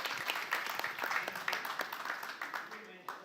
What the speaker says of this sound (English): We can also give them a round of applause.